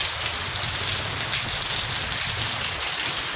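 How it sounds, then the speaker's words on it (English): Heavy rain falls on a Florida garden, making a dense, constant hiss and patter with no break. "A lot of rain."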